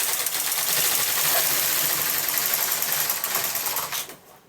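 A knitting machine carriage slides across the needle bed in one pass, a loud continuous mechanical whirring clatter lasting about four seconds before stopping abruptly, close up with no speech.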